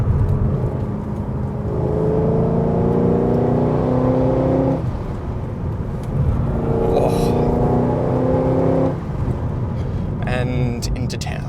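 A 2017 HSV GTS-R W1 with a supercharged V8, heard from inside as it drives through town, its engine droning steadily and rising in two long pulls before easing off, with a brief whine near the end.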